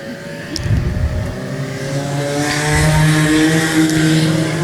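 Junior sedan race cars accelerating off a green-flag start, a pack of engines revving hard and climbing in pitch together, loud and close, building to a sustained roar.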